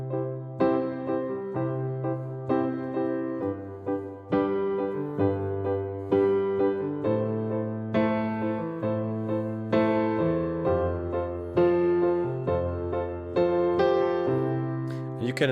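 Piano chord pattern played with both hands, steady bass notes under rhythmic chords with louder accents on the third and seventh chords, continuous and close without any talking.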